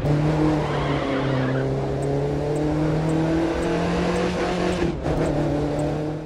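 A car drives in The Crew 2 racing game, its engine holding a steady droning tone with tyre noise and a brief skid-like dip near the end, loud and continuous throughout.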